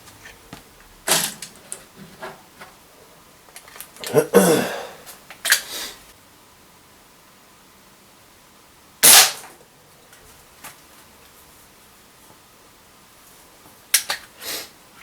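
Sharp shots from a Mad Max Contender break-top gas pistol, fired at a target: a few distinct cracks spaced seconds apart, with quiet handling noises between them and no talking.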